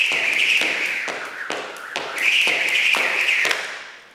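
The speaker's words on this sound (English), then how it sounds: "you can hear a very distinct difference when that rope is passing one time versus two times" Jump rope slapping the floor in a steady rhythm, about twice per second, with a continuous whirring swish between landings as it passes; close and fairly loud.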